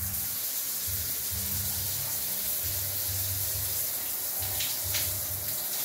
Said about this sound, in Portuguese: tá instalado o chuveiro